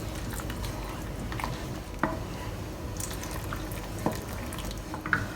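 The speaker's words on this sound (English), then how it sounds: "add in bit by bit and stir it up" Cornstarch-thickened sauce being stirred in a pot, a soft steady bubbling and liquid churn with a few faint utensil clinks against the pot, no talk.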